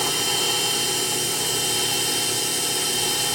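Myford Super 7 lathe facing off a part with a DCMT carbide tool, a steady close machining whine and motor hum running unbroken without pause.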